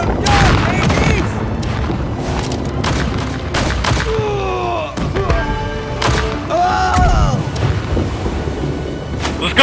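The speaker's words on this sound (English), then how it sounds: "Starboard side cannons, please." Ship cannons fire in the pirate video game Blackwake, a string of booming blasts on the starboard side, some near and some distant, while players talk throughout.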